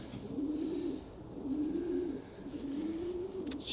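A Vandenebelle racing pigeon coos in three soft, rolling phrases spaced about a second apart, close and fairly quiet over faint background noise, with no talk.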